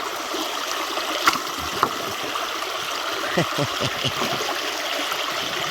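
Creek water runs steadily over bedrock and conglomerate in a tight channel, a continuous close trickling and gurgling with a few brief splashy knocks and faint low voices in the background.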